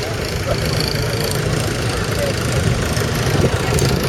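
An old tractor engine runs steadily at an agricultural show in Worcestershire, a continuous low rumble with crowd noise and voices throughout.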